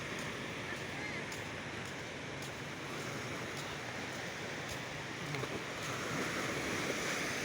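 Sea waves wash steadily onto a beach in a continuous broadband roar, with light wind buffeting and no clear talking.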